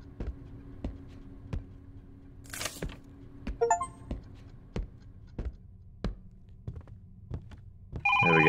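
A telephone rings in the horror game Is Simon There?, its loud electronic ringing starting near the end after a stretch of sparse, evenly spaced ticks and taps, a brief whoosh and a short chirping sequence.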